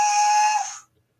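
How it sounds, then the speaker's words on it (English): Steam whistle of Lady, the Thomas the Tank Engine locomotive, one loud, clear, sustained high toot lasting under a second, then cutting off into near silence. "Oh, Lady's whistle."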